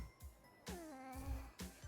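Cat meowing in the video game Assassin's Creed Shadows, several drawn-out, pitch-bending meows in sequence, close and clear, with no talking over them.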